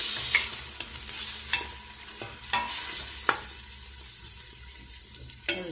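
Meat frying in hot oil in a pan for a traditional Kabyle dish, a steady close sizzle broken by sharp utensil clicks and scrapes as it is stirred, with no talking.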